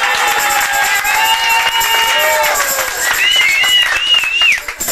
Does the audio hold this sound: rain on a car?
no